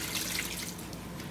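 Water drains steadily from cooked quick-cooking pasta in a colander, a soft continuous trickle and splash heard close and fairly faint, with no talk.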